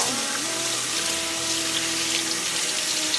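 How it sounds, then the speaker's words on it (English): Warm water running and splashing as fabric is wetted for a dye bath, a steady close wash of water with a faint tonal hum beneath. "So now we're going to wet these with warm water."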